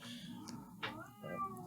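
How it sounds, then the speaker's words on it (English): A house cat lets out a few soft, quiet meows close to a microphone during a podcast recording, with no talk. "I don't know if the cat gets picked up on your recording, but I think the cat likes Face of the Storm."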